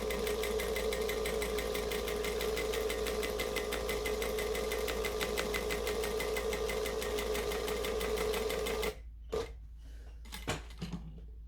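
A sewing machine stitches a bag in one steady close run, then stops and leaves a few soft handling knocks.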